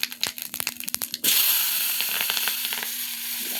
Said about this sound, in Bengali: আর তেল ছিটে আসছে।